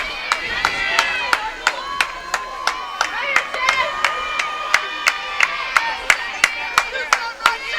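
A softball crowd in the stands yelling and shouting at the umpires, a steady wash of loud voices punctuated by a sharp, regular clapping or banging beat running through the whole stretch.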